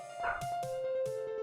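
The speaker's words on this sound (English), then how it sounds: "I'm sorry about my dog. I can't stop him." A pet dog barks in short close yips, three or four quick bursts over a steady background tone from a game.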